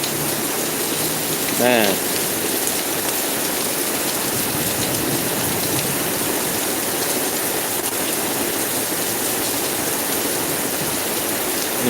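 Heavy rain pouring down during a storm in a city street, a loud continuous hiss and wash throughout, with a brief voice at the start.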